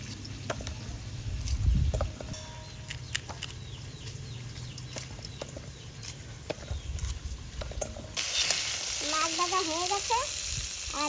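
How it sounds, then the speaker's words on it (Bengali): Rohu fish fries in hot oil in a kadai, giving a moderate, steady sizzle. Near the end the sizzle brightens and chirping, bird-like tones rise above it. "এই যে মাছ ভাজা এখন তুলে নিচ্ছি"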